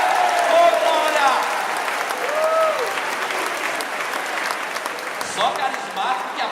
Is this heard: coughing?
no